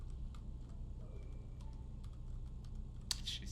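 Keyboard typing in the horror game Dusk Radio, a steady patter of soft key clicks over a low hum, ending with a brighter sharp burst near the close.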